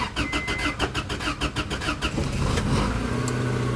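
A car engine cranks repeatedly in a fast, rhythmic starter churn, struggling to catch for two seconds before firing into a rough, steady idle, heard close at an auction lot.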